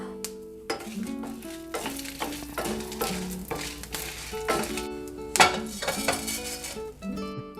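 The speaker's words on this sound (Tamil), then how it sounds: "பருப்பு நல்லா வறுத்துருச்சு. இப்போ நம்ம இதில் மிளகாயை சேர்த்துக்கலாம்." Urad dal and green chillies fry in a pan for a karpooravalli chutney, a soft sizzle broken by frequent metallic clinks and scrapes of a spoon stirring against the pan, with some ringing tones.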